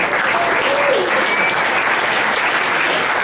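An audience at a jazz ensemble concert breaks into dense, sustained applause, a steady wash of clapping from a crowd with no voices over it.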